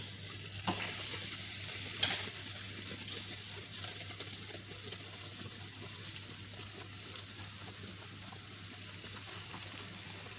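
Potatoes and beans sizzle and crackle steadily in a hot pan, with a brief scrape of stirring early on and no talking.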